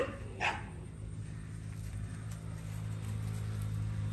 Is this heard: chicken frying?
no